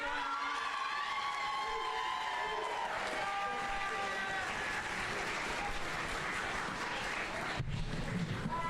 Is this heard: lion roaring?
no